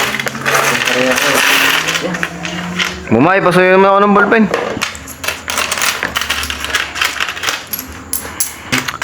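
Loose coins jingle and clatter through a transaction at a siomai food cart business, with speech running over the metallic clinks.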